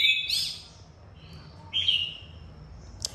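Oriental magpie-robin singing in short, bright, whistled phrases separated by pauses, close and clear over a quiet background, with a sharp final chirp.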